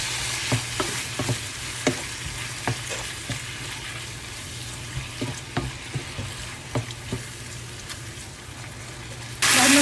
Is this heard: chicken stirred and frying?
yes